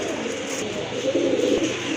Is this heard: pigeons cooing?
yes